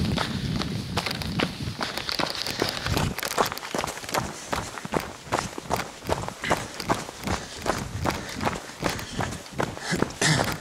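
Running footsteps on a trail at night, fast and evenly spaced crunching steps close to the listener, continuing steadily with heavy breathing and faint background rustle.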